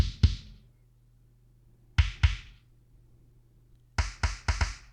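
Deep, punchy bass drum hits with a bright snap on top, played in short groups: two, then two, then a quick run of four, with a low hum beneath.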